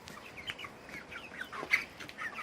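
Chickens and young chicks in a garden coop, with soft scattered clucks and high chirps repeating close by at a moderate level over steady background noise.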